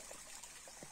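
Soft trickling of water running from a pipe fed by a stream in a forest, faint and close with small gurgling droplets over a quiet background.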